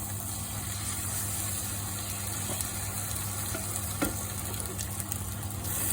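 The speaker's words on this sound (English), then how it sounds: "now it's time to add the 5 beaten eggs" Five beaten eggs for anda bhurji sizzle steadily in a hot pan, a continuous, moderately quiet frying hiss with a low hum underneath and a few faint clicks of stirring.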